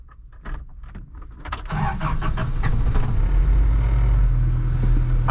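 A 1985 Toyota pickup with a 4-speed manual has its key turned with a few clicks, then the engine cranks briefly and starts, settling into a loud, steady close idle rumble.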